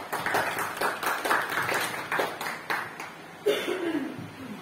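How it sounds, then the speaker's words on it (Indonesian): Participants at a teachers' workshop clap in a quick, fairly regular rhythm of separate hits. The claps are close and moderately loud and fade toward the end. "Tepuk tangan kita beri aplaus."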